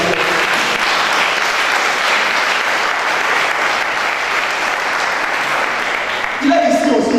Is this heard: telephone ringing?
no